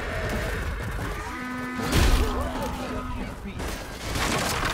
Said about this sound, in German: Jetzt hört man noch das Pferd hier.